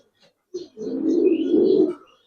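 A pigeon at a farm selling Giribaz and racer pigeons gives a single low, throaty coo lasting over a second, close and clear against a quiet background.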